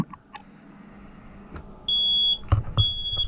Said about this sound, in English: up here you can see we've got a fire alarm